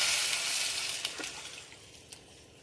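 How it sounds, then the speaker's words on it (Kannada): Tomato juice hits fried masala in hot oil for tomato rasam, with a loud, steady sizzle that slowly settles and a few small clinks near the end. "ಈಗ ಮಸಾಲ ರೆಡಿಯಾಗಿದೆ ಅದಕ್ಕೆ ನಾವು ಟೊಮೊಟೊ ರಸನ ಹಾಕ್ತೀವಿ"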